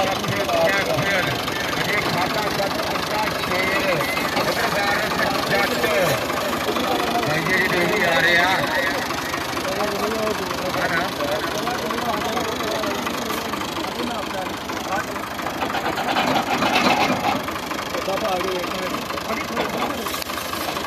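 Tractor engines idle at a Punjab tractor pulling fair, a steady mid-pitched chugging with knocking undertones beneath a commentator's continuous talk and crowd bustle.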